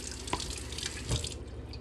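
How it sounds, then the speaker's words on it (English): Water runs steadily from a tap into a sink as a dog's water bowl is rinsed out, a continuous close splashing stream with a couple of brief louder splashes and no talking. "I'm cleaning out her water bowl so that I can fill it up"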